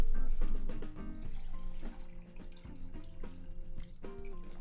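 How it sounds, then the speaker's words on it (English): Water splashes and gurgles into a cooking pot being filled for a Chinese pork dish, a close, continuous pour with bubbling surges and drips, with no talk over it. "Now we need to add some water to fill our pot."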